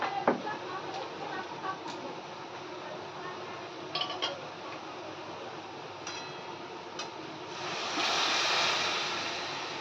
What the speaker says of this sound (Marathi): आपण त्यात गरम पाणी टाकणार आहोत